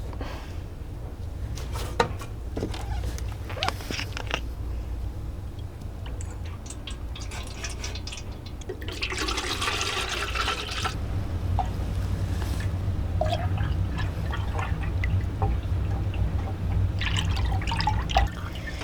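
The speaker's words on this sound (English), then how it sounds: "Actually, I'm gonna pour out a second cup right now." Melted candle wax is poured from a pitcher into cups, giving a steady liquid pouring and dribbling sound with a few drips, close and moderately loud, no talking.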